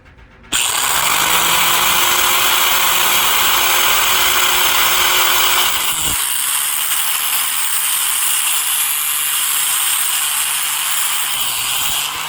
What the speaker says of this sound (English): they recommend that you use a angle grinder to cut a smooth straight line